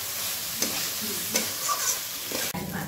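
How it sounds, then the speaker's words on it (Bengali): Fried vegetables stirred with spices in hot oil in a pan, a steady close sizzle with a few scraping stirs of the spoon, no talk over it. "দেখো সবজিগুলো ভাজা হয়ে গেছে, মশলার সাথে ভালো করে ভাজা হয়ে গেছে"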